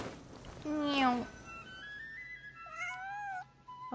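A cat meows once, a short rising-then-falling cry, in the video game Genshin Impact. A human voice follows, imitating the meow more softly.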